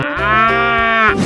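A single long, loud cow moo from an animated 3D animal slide game, a steady drawn-out bellow sounding alone.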